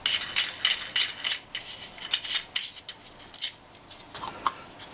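A small metal nut is threaded on to fasten a lamp socket part on a steampunk Tesla-style night light. Faint, close scraping and light metallic clicks come in short bursts.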